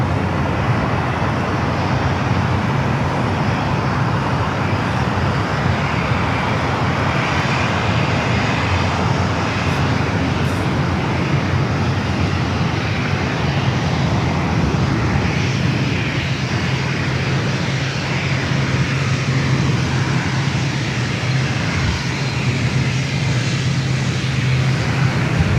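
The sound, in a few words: ATR turboprop airliner with unusually loud propellers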